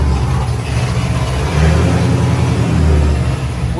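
An LS-swapped Nissan 350Z engine runs on a dyno, holding a loud, steady, deep drone with slight swells in pitch, close and with no voices.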